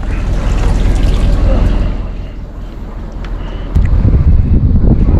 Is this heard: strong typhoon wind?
yes